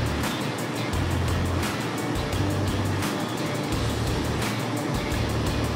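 An Antari HZ-1000 haze machine runs on its high setting with the wind diverter fitted, giving a steady, loud rushing fan roar with a low motor hum throughout and no voices.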